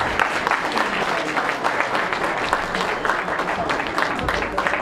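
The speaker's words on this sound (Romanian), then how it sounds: "Aplauze!" Steady applause from the audience at the Miss Cașin 2016 pageant, a dense continuous wash of many hands clapping at an even level throughout, with no pause or buildup.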